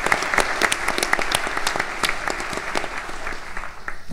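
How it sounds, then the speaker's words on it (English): An audience at a panel discussion applauds steadily, many hands clapping close and fairly loud for the whole span with no voices over it. "let's give these impressive young people a round of applause that they deserve"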